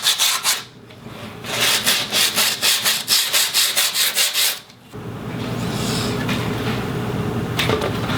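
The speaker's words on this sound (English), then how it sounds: "Now we're going to just sand the edges down" Sandpaper rubbed back and forth along the wooden edges of a skateboard deck, a quick run of rhythmic rasping strokes followed by a steadier continuous scraping, close and fairly loud with no talk.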